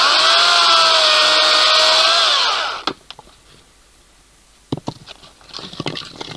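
A Makita electric chainsaw cuts through logs, its loud steady whine running for nearly three seconds before cutting out, followed by scattered knocks and clatter from the wood and handling.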